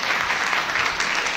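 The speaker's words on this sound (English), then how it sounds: "Thank you for the applause" Audience applause after a literature lecture at the John Adams Institute, a dense, steady wash of clapping from a full hall sustained throughout without a break.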